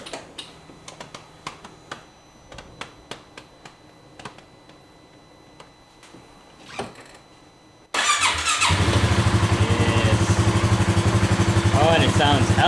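A rebuilt 570 engine, refreshed so it no longer burns oil, cranks and catches at once, then settles into a loud, steady idle that runs to the end, after several seconds of light clicking and tapping.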